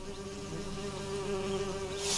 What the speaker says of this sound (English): Goddamn spirit bees.